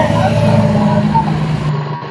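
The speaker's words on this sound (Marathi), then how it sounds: "का इथे इतकं ट्रॅफिक झालेलं आहे साहेब" Heavy road traffic rumbles along a busy street in Solapur, with car and truck engines droning close by and a voice speaking over the steady noise.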